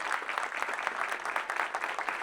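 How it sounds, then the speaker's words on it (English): Audience applause for students and graduates at a university art exhibition event, a steady dense patter of many hands clapping throughout, fairly close and even in loudness with no talking. "can we give them a round of applause?"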